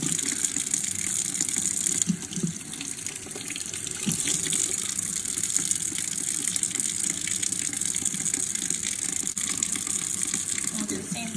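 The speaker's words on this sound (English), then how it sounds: "And then you just keep running under the water" Makeup brushes held under running tap water, a steady loud gush from the faucet that never lets up, with a person talking over it.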